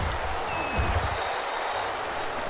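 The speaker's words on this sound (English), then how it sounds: "How about some applause for the defense there?" Crowd applause for the defense in the Madden NFL 21 football video game, a steady, dense wash of clapping and crowd noise throughout.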